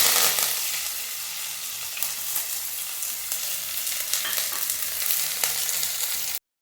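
Shallots and curry leaves frying in hot oil with mustard seeds for a Kerala pork dish, a continuous bright sizzle with scattered crackles and pops, close and fairly loud, ending abruptly.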